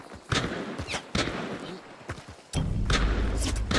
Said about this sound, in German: Da kommt ein Schuss geflogen.